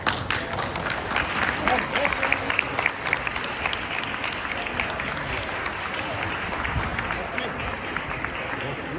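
Audience applauding children at the Arya Samaj Ghatkopar annual cultural programme: steady, dense clapping from a large crowd lasting several seconds, with voices audible underneath.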